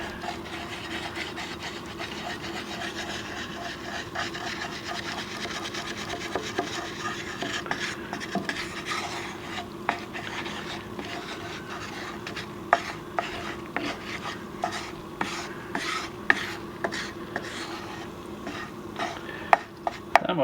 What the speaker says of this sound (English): Yeah, you gotta stir it.